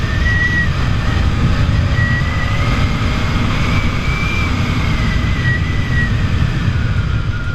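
Loud, steady engine roar from a dragster-style road motorcycle under hard acceleration, dense low rumble filling the whole stretch with a faint whine rising and falling above it, continuous and close with no talk.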